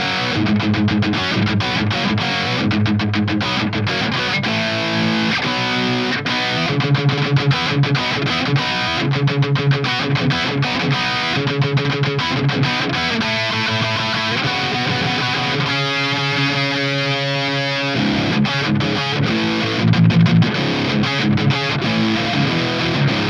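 An electric guitar plays through a Human Plexcalibur distortion pedal, a thick, saturated Plexi-style tone with chugging riffs and sustained chords, loud and continuous without any voices.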